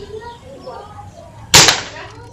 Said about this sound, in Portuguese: Vamos para o quinto disparo